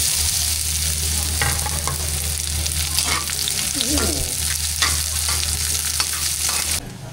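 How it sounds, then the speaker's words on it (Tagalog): Onion drops into hot cooking oil and fries with a loud, continuous sizzle, broken by scraping stirs in the pan, before the sound eases off suddenly near the end. "Mainit na po itong ating mantika. Lagyan po natin si sibuyas."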